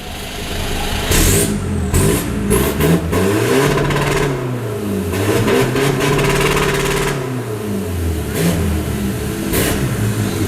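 A modified Isuzu D-Max X-Series pickup truck engine revs repeatedly through a loud aftermarket exhaust, rising and falling in pitch with throaty rumbles, close by and continuous.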